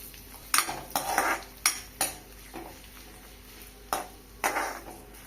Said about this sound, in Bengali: পেঁয়াজ ভেজে নেবো লাল লাল করে